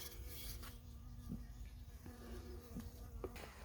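Honey bees buzz steadily inside a hive left damp by Storm Bert, a dense, continuous hum close by with a few faint taps and knocks mixed in.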